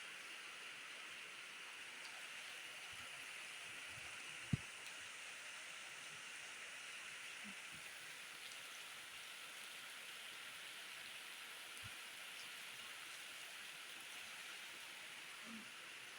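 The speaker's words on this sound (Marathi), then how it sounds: "पाऊस असला पडायला लागलाय ना खूप जोरात" Heavy rain pours down in a steady, even hiss, faint and distant, with a few soft drips and thuds scattered through the constant wash.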